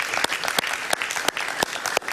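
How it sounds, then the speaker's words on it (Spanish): Short burst of studio audience applause on a Spanish-language talk show, a dense patter of clapping with a few sharper, nearer claps standing out. "Un aplauso para ellos, por favor."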